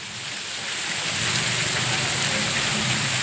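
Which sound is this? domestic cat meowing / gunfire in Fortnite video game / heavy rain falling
heavy rain falling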